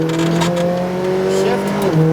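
A McLaren GT4 race car on a track, engine holding a steady strained drone as the driver eases onto the throttle, with a brief pitch shift near the end; loud and close, as heard from inside the cabin.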